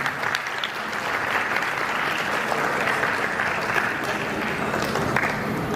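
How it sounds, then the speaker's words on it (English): Applause from wedding reception guests after a speech, a steady wash of many hands clapping throughout, fairly close and full, with faint crowd murmur underneath. "please give it a round of applause for a wonderful speech"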